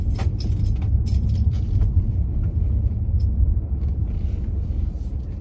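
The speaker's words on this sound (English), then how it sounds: "Look, I can't even drive, y'all. Let me park this car right." A car engine rumbles steadily from inside the vehicle while it is driven and maneuvered into a parking spot, a low continuous drone with a few faint clicks and knocks.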